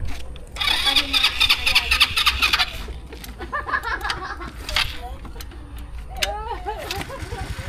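A cold motorcycle engine cranking on choke, with rapid rattling starter turns and sputtering catches that stop and start again, close by, as people talk throughout.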